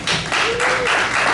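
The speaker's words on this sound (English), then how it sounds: "Give yourself an applause." Audience applause at a Hall of Fame evening honoring former residents of a housing community: a dense, steady wash of many hands clapping, loud and close, filling the whole brief moment.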